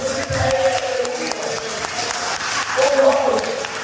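A church congregation applauds during a sermon, with a spread of hand claps running throughout and a voice speaking over the clapping.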